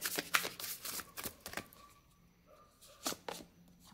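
Tarot cards are handled and shuffled close by, giving a run of quick papery riffles and flicks, then a short lull before a few more snaps of cards. No voice is heard.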